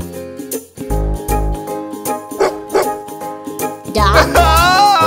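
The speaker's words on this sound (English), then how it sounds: "Dog." A dog barks and yips in several short bursts, close and loud, with a jingling tone in the background and no talk.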